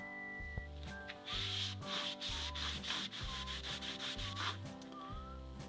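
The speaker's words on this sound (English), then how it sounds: "Let me give it a wipe down." Rag wiping down a rusty steel piece coated in Marvel Mystery Oil, giving steady close rubbing and scraping strokes in repeated bursts, with faint music underneath.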